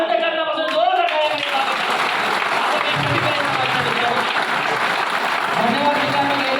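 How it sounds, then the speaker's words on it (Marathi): Loud, sustained applause from an audience at a speech event in Latur, dense clapping filling the whole stretch with steady crowd noise and no break. "अंतःकरणापासून जोरदार टाळ्या"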